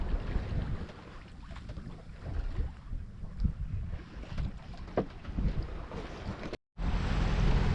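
A sailboat moving over a flat calm sea in light wind, with steady wind buffeting the microphone and a soft wash of water along the hull, continuous and close.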